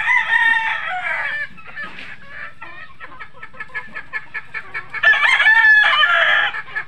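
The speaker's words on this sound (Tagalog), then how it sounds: "Dami na ang ating mga manok" Chickens clucking and a rooster crowing on a farm, with loud crowing at the start and end around a run of rhythmic clucks, close and clear with no talk.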